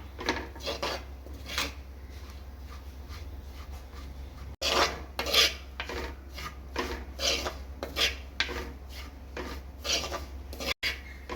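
Spice powders, including turmeric and fenugreek, are stirred in a hot pan for a fish curry, giving repeated scraping, rasping strokes at a steady rhythm, close and fairly quiet, with no talking.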